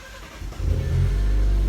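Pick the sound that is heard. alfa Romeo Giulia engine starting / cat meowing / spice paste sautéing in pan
alfa Romeo Giulia engine starting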